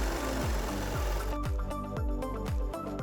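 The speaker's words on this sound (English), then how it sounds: "We just fold them like this and sew them across to create the crotch seam." A sewing machine stitching fabric pieces together for a toddler's shorts crotch seam, running in a fast regular rhythm of close, distinct needle thumps with a steady motor whir.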